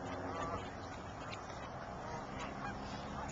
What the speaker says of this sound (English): The duck is quacking.